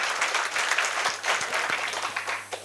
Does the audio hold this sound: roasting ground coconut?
no